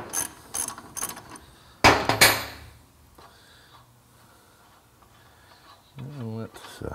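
A ratchet wrench loosens a nut during an electric conversion of a 2009 Mini Cooper Clubman, giving a few quick clicking ratchet strokes, a louder burst of mechanical clatter, then a short spoken phrase at the end.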